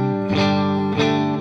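Electric guitar played through a Fractal FM3 set to overdrive with reverb: two loud, sustained distorted chords, each struck and left ringing with a lush reverb tail, no voices.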